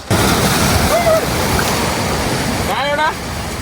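Cold southern Atlantic Ocean water washes against the shore on a Namib desert coast, a loud continuous surf wash close to the microphone, with brief bird-like chirps over the top.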